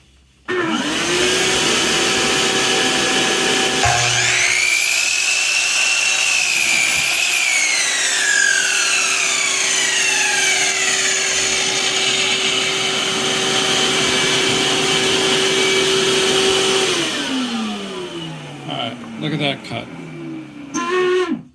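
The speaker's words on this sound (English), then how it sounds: "so let's turn the vacuum on" A shop vacuum runs as dust extraction for a compound sliding miter saw, a steady loud whine that swells as the motor spins up, holds level, then winds down toward the end with a few clunks.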